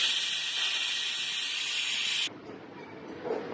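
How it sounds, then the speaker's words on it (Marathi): A pressure cooker of cluster bean and potato curry lets out a loud, steady whistling hiss for just over two seconds, then cuts off abruptly into a low background murmur. "तर आपण बघू शकतो कुकरच्या कशा शिट्ट्या येत आहेत"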